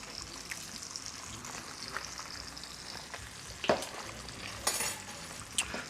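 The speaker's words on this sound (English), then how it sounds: "we're gonna let that bacon fat render down" Bacon fat rendering in a hot pan, a steady soft sizzle and crackle heard close, broken by a few clinks of a utensil against the pan.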